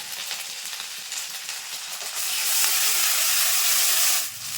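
Cumin and dried chili paste hit hot mustard oil for a small-fish curry with eggplant, giving a steady close sizzle and hiss that swells sharply louder partway through and holds, with no talking.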